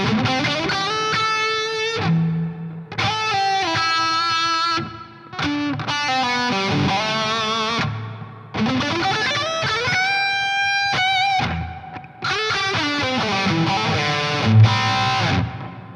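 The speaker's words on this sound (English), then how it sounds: "If we go up to noon on the reverb, it gets pretty big pretty fast." Distorted electric guitar chords ring out through an EVH 5150III Hypersonic amp with reverb at noon, strummed in bursts with short pauses, each chord leaving a big, washy reverb tail.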